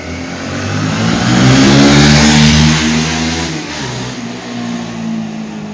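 Motorcycle engine revving hard right after a brake pad and fluid change, rising to a loud sustained roar and easing back to a throaty run, close by with no talk.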